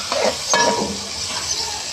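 Tomatoes and green chillies being stirred into browned onions frying in a pan for a Hyderabadi kulfa dal, giving a steady broad sizzle with a couple of scraping stir strokes, close and alone with no talk.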